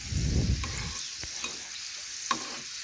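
Oil is sprinkled over pea-stuffed kachoris frying in a pan, setting off a soft, close sizzle that swells briefly at first, then settles into a quieter hiss with a few light clicks.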